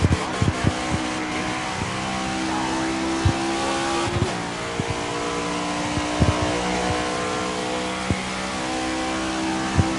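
A NASCAR stock car engine in the NASCAR 25 racing game revs and roars loudly and continuously, with sharp gear-shift blips and pitch changes as it accelerates, no voices present.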